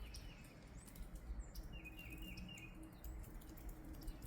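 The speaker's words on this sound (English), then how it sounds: "And you can just hear them." Many birds chirp and twitter from nearby trees, a steady scatter of short high calls over low outdoor rumble.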